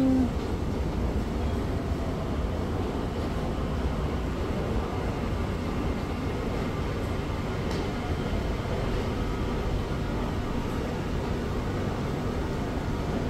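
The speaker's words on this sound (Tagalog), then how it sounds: "Andiyan na yung train." Metro train at Msheireb station in Doha, heard as a continuous loud rumbling roar that holds steady throughout with no talk.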